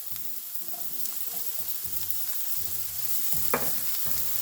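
Peppers and other vegetables for an omelette sizzle in a hot pan, a steady close crackling hiss with occasional soft clinks and scrapes, and a low tonal hum running underneath.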